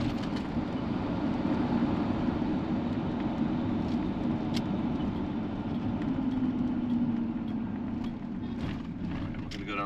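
Engine of a 1997 Ford F250 4x4 extended cab pickup running at a steady low rumble from inside the cab while driving, even and continuous, with faint ticks and rattles over it.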